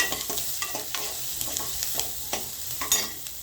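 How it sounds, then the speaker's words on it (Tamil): Onions sauté in a pan with a continuous frying sizzle and a quick run of stirring scrapes and taps, close and moderately loud. "இப்போ இந்த வெங்காயம் வதங்கிக்கிட்டு இருக்கு"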